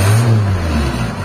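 Engine of a 2005 Suzuki Carry 1000 revving briefly and loudly up close, a short throaty surge that dips and then steadies.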